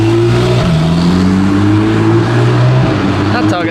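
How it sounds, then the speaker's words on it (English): A Porsche Targa's engine revs loudly on a London street, with rising and falling engine pitch close by and a quick shift-like dip before climbing again. "That Targa sounds good"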